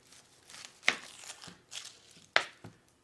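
A knife chops through the top of a sweet Vidalia onion on a board, two crisp, sharp cuts with softer crunching and rustling of papery skin around them, close and alone.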